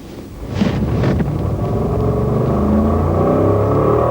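An Allard car accelerates up the Brighton speed trials course, its engine roaring in from a lower rumble and building into a loud, steady, rising drone as it pulls away, heard from close by with no talk.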